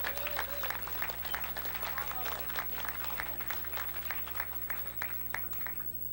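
Audience at the 2008 Jack's Surfing Walk of Fame ceremony applauding a painting, scattered claps over a steady crowd murmur with some voices mixed in, moderately distant and fairly even throughout.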